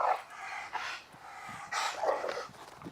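A dog gives quick yips and barks between bursts of heavy panting, fairly close but not loud, in short uneven bursts.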